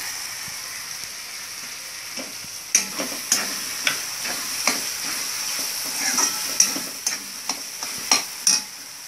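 Butter sizzling in a pan for pav bhaji with cauliflower, potatoes and peas, a steady hiss under a series of sharp ticks and spatters, close and fairly loud, with no talk.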